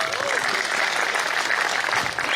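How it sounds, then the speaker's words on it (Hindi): Audience applause for a speaker, Paras sir, at an event, dense continuous clapping from a seated crowd throughout the short stretch. "जोरदार तालियां पारस सर के लिए।"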